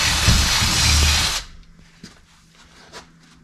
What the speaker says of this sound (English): And I just drill into the wood that way.